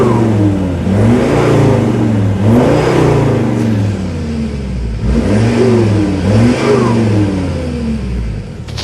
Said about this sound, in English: when you give her a rev and lift off, you can actually hear the turbo through that